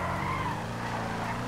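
Car drifting in GTA 5 on PC, tyres skidding and squealing over a steady engine drone, continuous and fairly close, with no talk.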